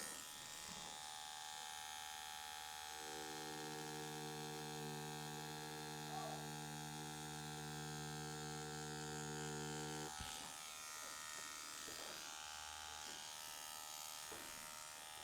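A tattoo machine buzzes as its needle works on practice skin: a steady, loud electric hum runs for several seconds, then cuts off into quieter handling noise, with a brief second buzz near the end.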